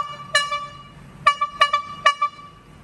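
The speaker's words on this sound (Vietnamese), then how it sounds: "Mã số 1 là một cái cây kèn xe ngựa nha các bạn. Cái kèn xe ngựa thời Pháp." An antique French-era brass horse-carriage horn sounds one long honk, then three short honks in quick succession, loud, close and with no talk.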